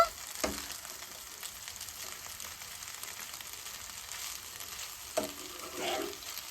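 Noodles with coriander are stirred and tossed in a pan, soft scraping and sizzling with a couple of sharper clacks of the spoon against the pan.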